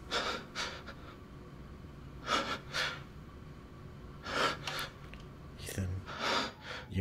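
Heavy, audible breathing from Ethan in Resident Evil Village, with soft rhythmic inhales and exhales repeating in faint bursts against a quiet, tense in-game backdrop.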